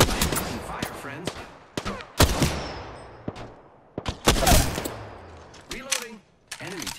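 Gunfire in Apex Legends: sharp shots and bursts at irregular intervals over seven seconds, some near and loud, others fainter, with game voice lines spoken between them.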